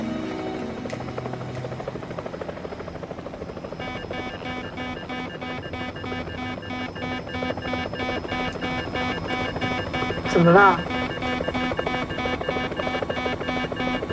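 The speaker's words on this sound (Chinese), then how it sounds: "飞机好像出了点故障。" An aircraft in flight with a malfunction, as a drama sound effect: a constant droning engine hum with a whining tonal layer, swelling briefly near the end, while a voice speaks briefly.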